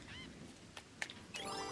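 Chickens in the Lego Fortnite video game let out brief, faint squawking calls in quick succession over quiet game background sound.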